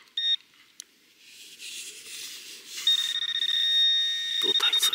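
A metal detector pinpointer used while treasure hunting at Krynica Morska gives a steady high electronic tone that pulses rapidly, following some soft rustling and a brief chirp at the start.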